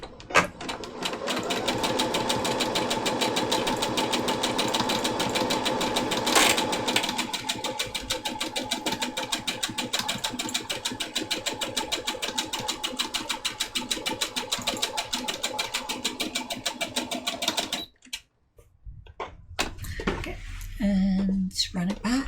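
A sewing machine stitches a zigzag pattern up close, a fast, steady mechanical chatter lasting most of the clip before stopping, followed by brief handling sounds.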